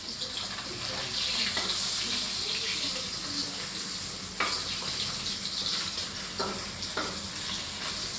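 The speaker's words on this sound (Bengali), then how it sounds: "মাছগুলা ভাজা নিতেছি একদম মশমশা করে" Hilsa fish pieces fry in a pan in a home kitchen, giving a steady, fairly loud crackling hiss throughout with a few sharper pops and spatters.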